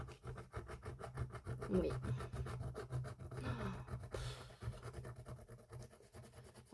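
A scratch card being scraped continuously, a steady close rasping rub that carries on for several seconds, with one brief word spoken near the end.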